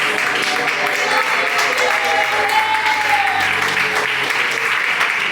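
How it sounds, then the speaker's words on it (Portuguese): A church congregation claps in praise together, a steady dense wash of applause sustained throughout with faint voices mixed in. "Pode se sentar e glorificar o Senhor com palmas, bem alegre para Jesus."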